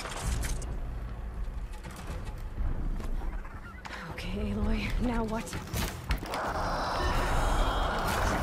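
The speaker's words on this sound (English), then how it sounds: "Some birds. Loud, noisy, annoying birds." Loud, noisy birds in the Horizon Zero Dawn video game honk and squawk in a series of harsh calls over a busy game soundscape, with louder cries near the end.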